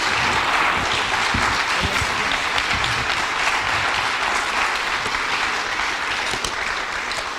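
Audience applause at a village manager search meeting, loud continuous clapping from a close crowd holding steady throughout with occasional sharper individual claps and no talk.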